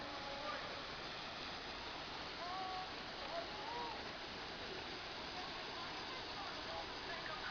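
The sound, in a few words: waterfall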